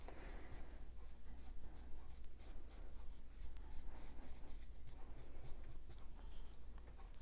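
Brush spreading gesso across watercolor paper to prime it for acrylic or oil paint, strokes feathered out; soft, steady scratchy rubbing in repeated passes, close and quiet, with no talking.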